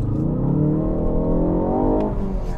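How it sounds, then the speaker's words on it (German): A 2019 Ford Focus ST with 280 PS launches under launch control, its engine note heard from inside the cabin climbing steadily in pitch as it accelerates hard, loud and continuous, with a brief shift-like break near the end. "und dann geben wir mal Gas"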